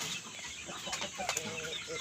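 Indio Gigante heritage chickens clucking close by, short irregular clucks and soft fowl calls over a low farmyard murmur, with faint voice-like sounds in the background.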